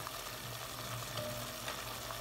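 Beef sizzles and fries in a cast iron pot, a steady, dense crackling hiss that stays close and continuous with no talking.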